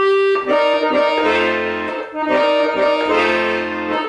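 Sustained accordion chords with a steady reedy drone, the top notes shifting between two positions in a repeating pattern, loud and close with no talking.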